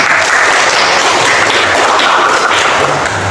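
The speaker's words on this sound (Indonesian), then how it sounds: "Oke, tepuk tangan." Classroom of students clapping together during a lesson, a dense burst of applause lasting a few seconds at steady loudness, with no talking over it.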